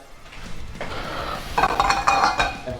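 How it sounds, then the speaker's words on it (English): Guanciale starts roasting in a dry pan for spaghetti carbonara, with close metallic clinks and scrapes of utensil against pan and a soft sizzle, busier and louder in the second half. "And now we have to start roasting the guanciale."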